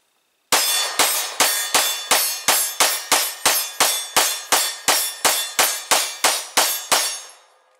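A Canik TP9DA pistol firing at an outdoor range, about eighteen sharp, loud shots in a quick, even rhythm, each with a short ringing decay, then silence.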